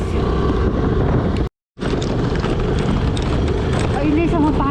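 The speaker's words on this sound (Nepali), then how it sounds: "छिट्टा चाहिँ बेसरी हानिरहेको छ अनि हावा चाहिँ चलिरहेको छ" Wind roars steadily across the microphone of a scooter riding off-road on a rainy jungle track from Haleshi to Lamidada, with water spray hissing in the constant noise and one brief dropout.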